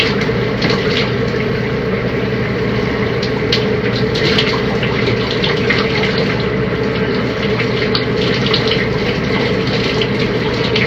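Shower water runs in a steady, close, continuous rush during a hair wash, with no talking.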